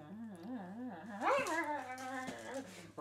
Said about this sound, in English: Leave the dog alone.